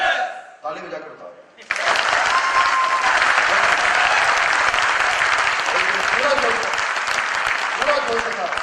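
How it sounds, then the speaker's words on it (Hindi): A seminar audience at a sales training event bursts into loud, sustained applause, the clapping starting abruptly after a short stretch of speech and continuing dense and steady for several seconds. "ताली बजाकर बताओ।"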